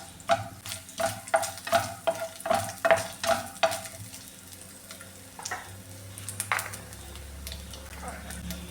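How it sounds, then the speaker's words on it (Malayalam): Grated coconut goes into hot coconut oil for a Kerala payar mezhukkupuratti, with a run of rhythmic stirring knocks and scrapes over a sizzle, then quieter frying with faint tap-like water noise. "ഇനി ഈ തേങ്ങ ഇട്ട് കൊടുക്കാമേ"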